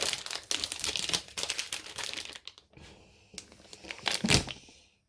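A wrapped ream of laser gloss printing paper handled up close, its plastic packaging crinkling and crackling in loud bursts, briefly quieter midway before another sharp crunch.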